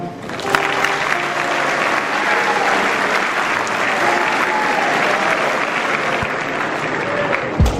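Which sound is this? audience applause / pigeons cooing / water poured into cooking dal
audience applause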